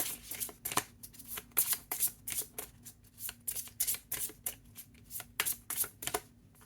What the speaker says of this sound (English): I'm just gonna shuffle here